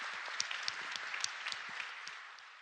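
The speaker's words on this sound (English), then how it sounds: "So if I could ask all of you to give the panel a round of applause for all of that." An audience applauding a conference panel, with fairly faint, steady clapping from a modest crowd that fades slightly at the end.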